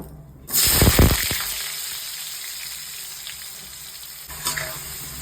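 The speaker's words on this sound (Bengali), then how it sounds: "হালকা লবণ দিয়ে আমি আলুগুলোকে ভেজে নেবো" Potatoes with a little salt hit hot oil with a sudden loud sizzle that quickly settles into a steady, softer frying hiss, with a brief stir near the end.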